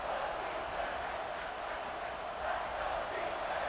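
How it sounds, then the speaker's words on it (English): A packed football stadium crowd at a college game between Texas A&M and Notre Dame roars steadily to urge on the defense before a red zone play, a dense, sustained wash of distant cheering. "This crowd is trying to inspire this defense to make a big red zone stop."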